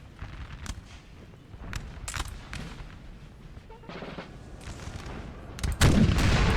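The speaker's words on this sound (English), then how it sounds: "They've actually got hit hard by artillery here" Artillery and musket fire in Napoleon Total War, repeated distant booms and crackling volleys in irregular bursts, building to a louder, denser barrage near the end.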